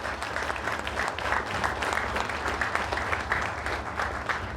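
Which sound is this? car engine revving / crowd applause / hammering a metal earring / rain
crowd applause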